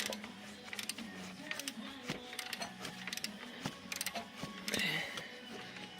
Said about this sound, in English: just twist that bolt right there, and then just take and tighten it until your belt feels pretty tight